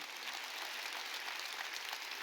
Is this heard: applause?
yes